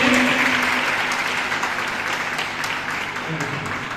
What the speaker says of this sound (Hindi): जोरदार ताली बजाएं समझने के लिए।